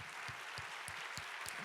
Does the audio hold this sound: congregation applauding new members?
yes